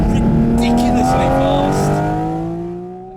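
A Porsche GT4 RS accelerating hard from 0 to 60, its engine howl climbing in pitch through the gears, loud and close, then fading as the run ends.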